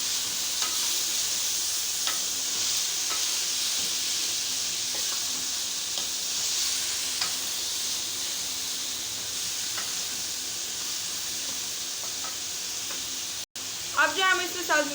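Green beans, onions and beef frying together in a pan, a steady close sizzle and hiss with occasional stirring taps, ending with a brief burst of other noise after a short cut.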